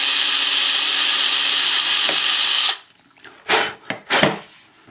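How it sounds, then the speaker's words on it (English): Drill whirring steadily through a hole for a rotor mast assembly for about three seconds, then stopping, followed by a few short louder scraping bursts. "I'm just going to drill a hole here."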